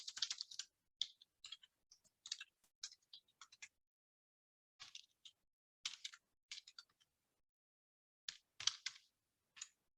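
Typing on a computer keyboard in short bursts of quick, faint key clicks separated by quiet pauses, close up with no voices.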